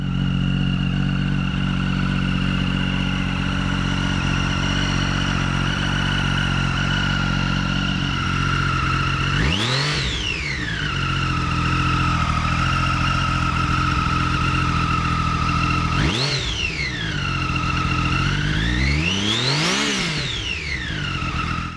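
A 2006 Triumph Daytona 675 motorcycle rides on roads in Japan, its engine holding a steady high whine before rising in three sharp accelerating sweeps, each climbing in pitch and falling back, loud and close with no talk.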